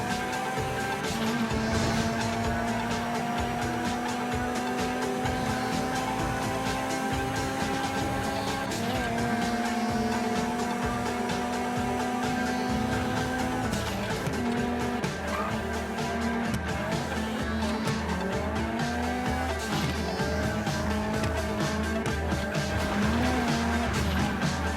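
A Kuruma car in GTA 5, fitted with off-road tires, drives continuously with a steady, loud engine drone whose pitch rises and falls with gear shifts, and brief tire squeals and skids.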